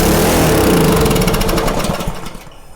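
A Karcher pressure washer's petrol engine, suspected of a carburettor fault, is pull-started and roars loudly at close range, then sputters and fades as it dies after a couple of seconds.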